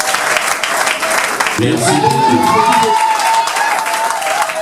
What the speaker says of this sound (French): Un applaudissement, merci beaucoup.